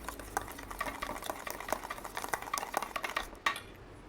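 A spoon clinks and scrapes in a bowl as aampanaa mango drink ingredients are mixed with sugar, giving quick, light rhythmic taps. It is close and soft, with no talking.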